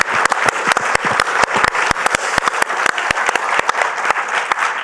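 Loud, sustained applause fills the room as an audience at a leadership forum panel claps for the panelists, a dense, even wash of hand claps with sharp individual claps cutting through.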